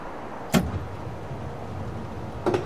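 Chicago Brown Line train doors closing in the game Railfan on PS3, heard as two brief thuds about two seconds apart over a low steady rumble.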